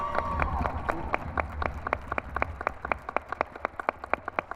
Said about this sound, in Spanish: Un fuerte aplauso, por favor, para Steve.